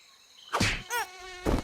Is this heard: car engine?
no